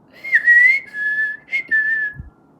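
A woman whistles two clear, sustained notes in succession, each held for roughly half a second, bright and close against a quiet background.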